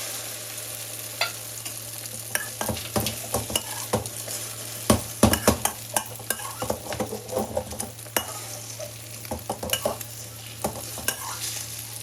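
A Thai-style omelette with basil and soy sauce fries in hot oil and is stirred, giving a continuous sizzle under frequent irregular scrapes and clinks of the utensil against the pan, with no talking.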